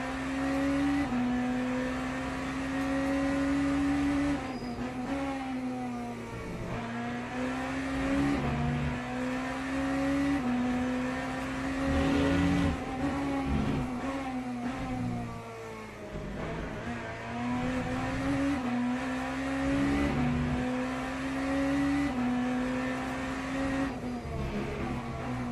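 A race car engine in a racing video game revs up and down repeatedly through the gears, its rising tone cycling in a steady rhythm at moderate loudness with no talking.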